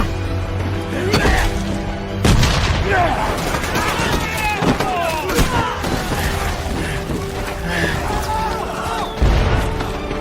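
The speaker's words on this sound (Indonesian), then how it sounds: "mereka tiba-tiba melemparkan granat ke arah tentara Amerika, yang saat itu sempat ditepis oleh Desmond." A grenade blast and gunfire ring out in a World War II battle scene from the film Hacksaw Ridge. Heavy booms and crackling shots fill the scene, and a narrator speaks over the combat.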